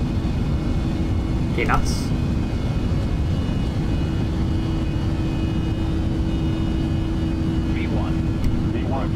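Airliner jet engines roar steadily at takeoff thrust in the Prepar3D flight simulator, on an Alaska Airlines departure from Anchorage; a dense, constant rumble with a faint whine fills the whole stretch while a voice speaks briefly over it.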